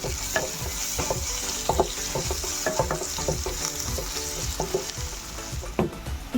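Crushed ginger-garlic paste frying in a pan for tomato rice, a constant close sizzle punctuated by rhythmic spoon stirs and scrapes, with no voices.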